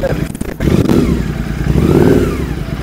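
A motorcycle engine runs loudly and steadily close by, with a rough rumble that rises slightly partway through; a voice is faintly present beneath it.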